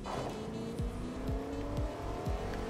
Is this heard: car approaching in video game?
yes